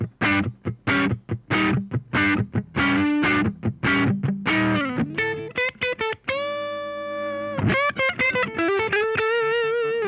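An electric guitar plays through a Boss ME-25 tweed amp model with light, bluesy overdrive, choppy picked notes giving way to sustained ringing bends, clear and upfront with no talking.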